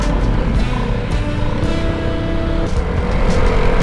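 A Vespa S125 scooter being ridden, its engine running quietly under a constant, loud rush of wind and road noise with no talking.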